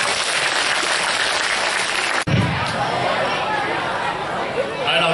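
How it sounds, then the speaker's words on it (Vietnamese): Audience applause welcoming a teacher at a secondary-school career guidance session, dense clapping and crowd noise filling the room throughout, with a sharp thump partway through. "Một tràng pháo tay chào đón thầy."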